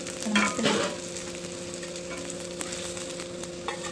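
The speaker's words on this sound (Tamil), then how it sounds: "மசாலாவும் ஊதுறாமல் எண்ணெய் வேஸ்ட் ஆகாமல் இருக்கும் நல்லா வேகட்டும் நல்லா வெந்துருச்சு" Vanjiram fish, coated in masala, fries crisp in oil in a pan with a steady close sizzle after a brief louder spatter burst at the start; no one speaks.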